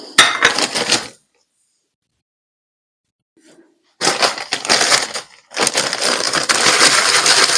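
Ginkgo biloba seeds mixed in a container of damp material for stratification: two bursts of gritty rustling and clinking separated by a pause, close and fairly loud.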